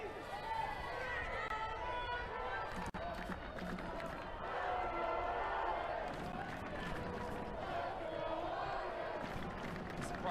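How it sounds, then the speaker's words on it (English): A home crowd at a men's college soccer match between Notre Dame and Wake Forest in South Bend rumbles and cheers at moderate volume, a steady stadium wash running beneath continuous play-by-play commentary. "The crowd here in South Bend tries to get their team going."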